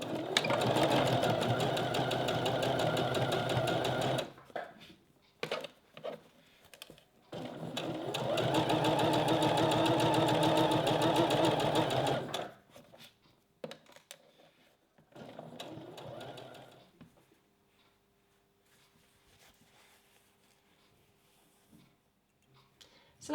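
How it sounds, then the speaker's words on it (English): A sewing machine runs straight stitches along a bra seam in two long, loud, steady whirring bursts, followed by shorter stops and starts, scattered clicks and handling noise. "So sew this seam with a 1 cm seam allowance, again using a straight stitch."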